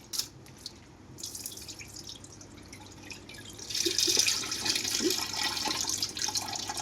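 Poha (flattened rice) is rinsed quickly in water, with running tap water, drips and splashing from a sink that grow louder and more continuous partway through, with no voices.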